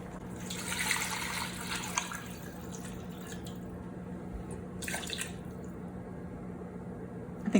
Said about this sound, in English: now I'm gonna add water half to each of these